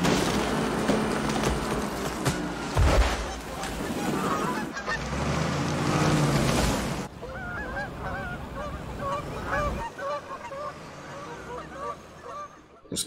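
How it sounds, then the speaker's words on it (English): Geese honk repeatedly in a film scene from Fly Away Home (1996), a dense, agitated chorus of calls over music and ambience, thinning later into separated honks at moderate distance. "Those geese are pissed."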